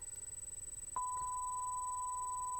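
A steady electronic tone sounds in a FNaF fan-made video game, starting abruptly and holding as a clean, sustained beep over a quiet, faintly pulsing background.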